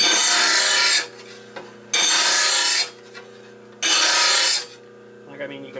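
Lawn mower blade being sharpened with a hand file, three long rasping strokes of metal on metal, each about a second, loud and close with short pauses between.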